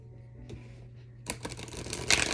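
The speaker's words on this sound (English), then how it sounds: "I'm going to take the bottom of the deck energy, and I'm going to shuffle." A deck of oracle cards is shuffled close up, with faint soft riffles at first, then a louder burst of quick papery flutters.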